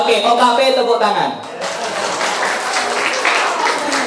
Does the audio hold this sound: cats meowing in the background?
no